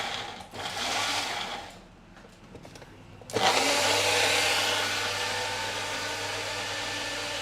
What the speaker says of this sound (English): I always feel a bit bad putting on blenders with people with headphones.